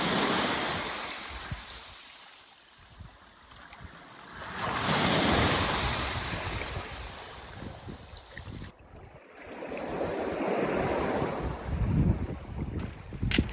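Ocean waves wash ashore at an oceanfront campground in Little Bay, Newfoundland. Surf rolls in and recedes in broad swells, and wind buffets the microphone.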